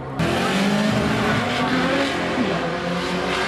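A race car drifts at a Pro Am drifting event, engine howling steadily with tire squeal layered over it, loud and close from start to finish.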